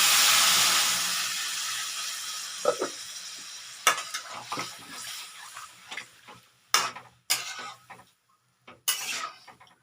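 Oil and fried spices sizzle loudly at first as water is added, then fade into scattered clinks and short splashing bursts, with no talking.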